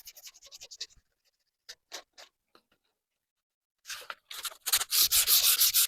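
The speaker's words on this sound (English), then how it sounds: "I'm going to add an angle to my sanding so that fibers that are standing up will be knocked down" Oak on a child's chair being sanded by hand at a slight angle to the grain, with short rasping strokes that start scattered, pause, then build into a loud steady run of rapid scrubbing near the end.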